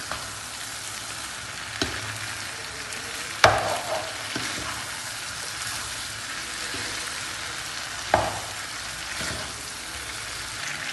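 Liver frying in oil with onions, green chilies and curry leaves gives a steady close sizzle, broken by a few sharp crackling spits as the curry leaves hit the pan.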